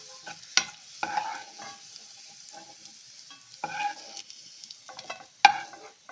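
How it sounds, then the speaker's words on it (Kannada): Garlic fries in hot oil with a crackling sizzle. Stirring scrapes and taps come and go, and sharper spatters burst out at irregular moments, close and fairly loud. "ಬೆಳ್ಳುಳ್ಳಿ ಫ್ರೈ ಮಾಡ್ಕೊಳ್ತಾ ಇದ್ದೀನಿ"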